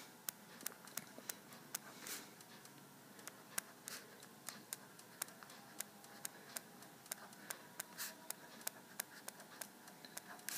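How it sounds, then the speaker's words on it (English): A pen or pencil writes notes by hand during a chemistry problem. The strokes come as faint, quick, irregular ticks and scratches, close by and quiet, with no speech over them. "so let me write this down here"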